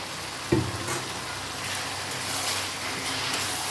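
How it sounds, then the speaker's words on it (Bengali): Pre-fried pointed gourd slides into hot masala oil with yogurt for potol bhapa, setting off a sharp clatter on landing that settles into a steady close sizzle with faint stirring. "এবার আমার ভেজে রাখা পটলগুলো দিয়ে দেবো"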